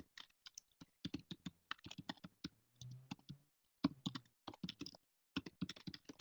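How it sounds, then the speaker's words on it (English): Typing on a computer keyboard while entering a discussion question, with clusters of crisp key clicks in uneven bursts separated by short pauses, close and fairly quiet, with a low murmur or rustle in one gap. "I'm just typing in a question"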